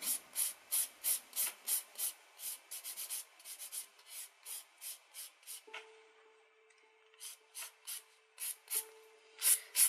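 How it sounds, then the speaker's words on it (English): A curved nail file strokes an acrylic stiletto nail in quick rhythmic rasps, a series of crisp close scrapes with a short pause midway and a faint electric hum behind. "File around your cuticle area first. Make sure you're using the curved side of your file."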